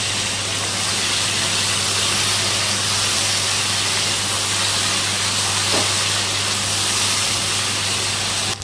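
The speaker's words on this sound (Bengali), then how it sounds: "এখন ভালো মতো ভেজে নিতে হবে" A loud, steady sizzle of okra with salt and turmeric frying in hot oil, continuous and unbroken throughout, with a low hum beneath and no voices.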